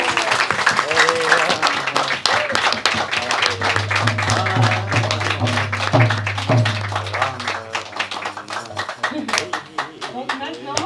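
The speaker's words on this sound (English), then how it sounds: "Please again, we can applaud him again." An audience at a studio event in Tours, France, claps for a dancer after a wild dance. The applause is dense and continuous, with voices talking over it and a low droning hum underneath.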